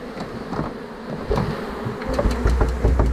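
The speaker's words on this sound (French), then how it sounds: "Un bel essaim." A honeybee swarm is shaken into a hive, loud close buzzing with irregular thumps and knocks as the bees drop in, rising toward the end.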